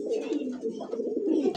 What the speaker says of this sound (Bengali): এটা ডাকতেছে, এটা হচ্ছে নর কবুতর।